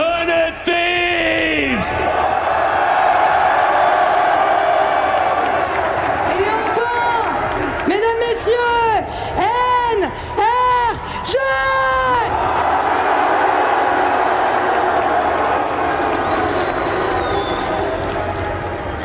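An esports arena crowd at a VALORANT final roars and chants in rhythmic bursts, loud and sustained, with a commentator's voice talking over the cheering.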